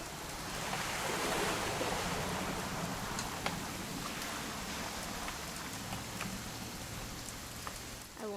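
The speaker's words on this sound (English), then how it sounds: "It's gonna rain the whole weekend" Steady rain falls in the video game What Remains of Edith Finch, a dense, even hiss of drops with a few sharper ticks, sustained throughout with no voices.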